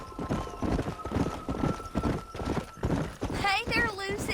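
A horse's hooves clip-clop steadily in Red Dead Redemption, loud and close, then the horse gives a wavering whinny near the end, with a voice speaking over the hoofbeats.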